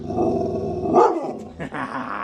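A pet dog growling on command, a low rumbling growl that rises into a brief louder snarl, pauses, then resumes close to the listener.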